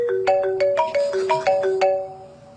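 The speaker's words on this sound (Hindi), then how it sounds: "मिस्टर एमरे कॉल कर रहे हैं। आंसर।" A bright electronic ringtone melody plays alone, a quick repeating run of tonal notes that loops clearly and steadily.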